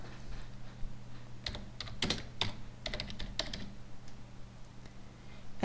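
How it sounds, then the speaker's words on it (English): Rapid keystrokes on a computer keyboard as a list name is typed, a handful of clustered clicks in the first half followed by sparser taps, close and fairly quiet over a faint steady hum. "Type a list name."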